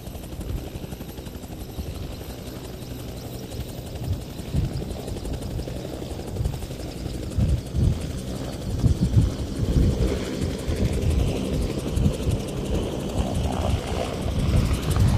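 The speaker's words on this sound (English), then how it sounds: "When the helicopters get ready to take off, make sure everything's clear" A helicopter's rotor chop and turbine whine build steadily, growing louder and rougher toward the end as it powers up nearby.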